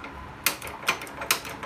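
Gas stove igniter clicking as the gas is turned on, four sharp close clicks at roughly even intervals over a quiet kitchen background.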